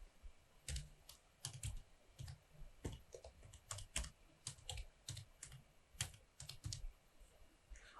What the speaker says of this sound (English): Begin typing the required text.